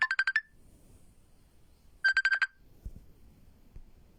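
Phone ringtone for an incoming call, two short bursts of rapid electronic trilling beeps about two seconds apart, fairly close, with quiet room noise between them.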